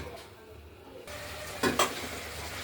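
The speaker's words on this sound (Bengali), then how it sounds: "আজকে এই মশলা দিয়ে আলুটাকে আগে কষিয়ে নেওয়া হচ্ছে।" Potatoes sautéing with ground spices in a pan for a spicy potato and pointed gourd curry, giving a steady low sizzle with a couple of brief stirring scrapes near the end.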